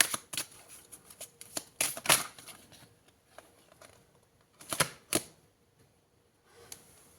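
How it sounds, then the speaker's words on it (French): Tarot cards are drawn and handled, giving sharp papery snaps and flicks in scattered bursts with quiet gaps between them. "Allez, je prends une dernière carte."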